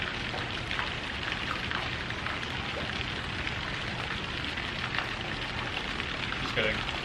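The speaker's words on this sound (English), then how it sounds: "It's still raining outside." Steady rain falls outside an apartment at night, a dense even hiss of drops spattering on surfaces, continuous and moderately close with no voices.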